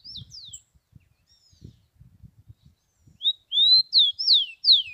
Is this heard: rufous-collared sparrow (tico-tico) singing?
yes